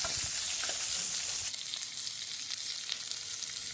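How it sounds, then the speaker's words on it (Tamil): Steady, dense sizzling of shallots sautéing in a pan for sambar, with occasional soft stirring scrapes; continuous and close, no voices. "நல்லா வதக்கிக்கணும்."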